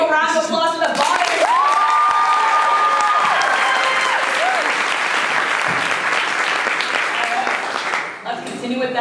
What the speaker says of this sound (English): Everyone give a round of applause to the body.